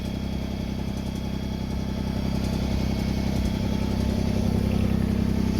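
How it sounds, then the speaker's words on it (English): A backhoe's diesel engine runs steadily nearby, a loud continuous low rumble with a mechanical clatter and no change in pace throughout. "I put my backhoe on."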